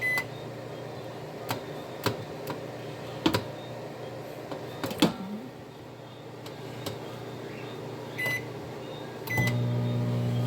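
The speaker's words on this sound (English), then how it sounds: "Hopefully it's not going to cook the chicken in the microwave. I'll just defrost it." Clicks and keypad beeps from a microwave oven set to defrost chicken, then the appliance starts up with a steady, loud running hum.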